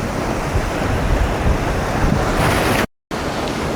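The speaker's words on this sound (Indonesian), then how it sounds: "Jangan coba-coba berenang di sini. Lihat ombaknya, buset," Large ocean waves crash and roll steadily at Sawarna beach, a loud continuous wash of surf with wind buffeting close by, cut by one brief silent gap near the end.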